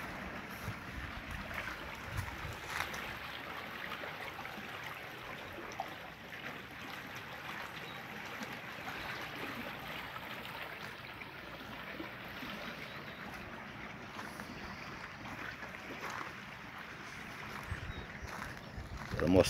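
Water rushes steadily down a canal into the Castanhão reservoir in Ceará, Brazil, a continuous, dense, fairly loud outdoor roar that holds evenly throughout.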